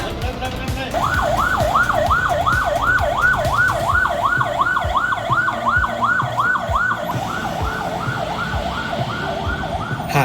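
A wailing ambulance siren rises and falls in a steady, rapid cycle over traffic noise, loud and fairly close.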